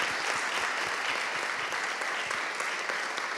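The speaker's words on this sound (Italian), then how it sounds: "Could we have an applause for..." Steady applause from a live audience at a special jury event, dense and continuous clapping throughout without anyone speaking.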